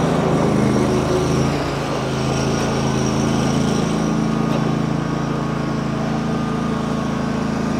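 A 2012 Snapper Pro S200XT zero-turn mower with a 61-inch deck and a 27 hp Kohler engine runs at a steady, close, continuous drone with no talking.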